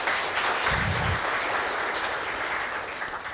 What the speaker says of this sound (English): May I have a round of applause for them, please?